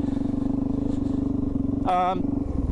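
Suzuki DR-Z400E dual sport motorcycle riding off-road, its single-cylinder engine thrumming steadily and loud close by, with a brief higher whine partway through.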